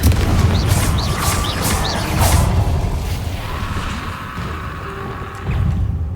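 A Confringo fire spell cast in the Hogwarts Legacy video game, a deep booming blast with whooshing and crashing debris over a continuous loud game soundscape, followed by lingering rumble and a second swell near the end.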